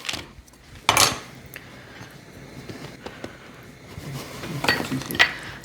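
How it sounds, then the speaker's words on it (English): Butter pieces are tossed in flour inside a saucepan, giving a few sharp metallic clinks and knocks against the pan amid quiet scraping and shuffling, loudest near the start and again toward the end. "So I'm gonna go ahead and dredge my butter in the flour."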